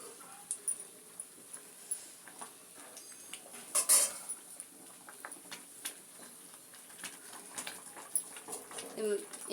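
A spoon stirring semiya payasam in a pot, with scattered metallic scrapes and clinks, one sharper knock in the middle, while a person talks quietly in the background.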